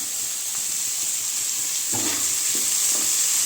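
Green chillies and curry leaves sautéing in hot oil for a soya chunk meal maker gravy give off a steady close sizzle, with a few soft stirring knocks near the end.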